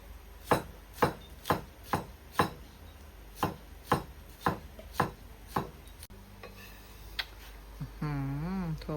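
A knife chops winged beans on a board in a steady series of about a dozen sharp thuds, close by, then stops as a voice begins speaking.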